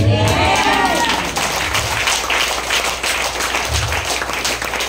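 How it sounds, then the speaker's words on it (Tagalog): A church congregation claps together in a dense, continuous patter of many hands throughout, filling the room steadily while people speak over it. "Lahat ng pumapalakpak, may power yan."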